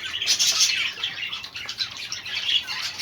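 Chinese painted quails in a cage, giving continuous high thin chirps and twittering calls, close and fairly loud, with no talking.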